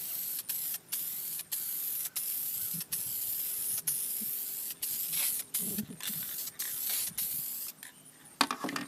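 A spray can of interior trim dye paint for BMW or Mercedes upholstery hisses in long, steady bursts, each broken by short gaps, close and loud with no talking.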